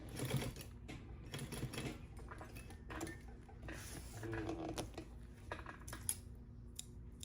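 A sewing machine runs in quiet stretches, basting pieces of a convertible crossbody bag, with a soft steady mechanical whir broken by brief pauses.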